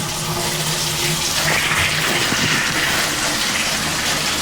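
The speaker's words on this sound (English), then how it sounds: "If you guys can hear that draining." Water rushes and gurgles steadily down a cleared toilet main drain in a bathroom, a continuous close, loud gushing wash that keeps up without a break.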